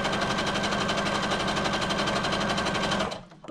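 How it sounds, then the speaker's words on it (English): Sewing machine stitching cloth at a fast steady speed set by a foot pedal, a close, loud, even rapid whirring clatter that runs about three seconds and then stops. "the harder you push on the foot pedal, the faster it goes. So I like to sew like this."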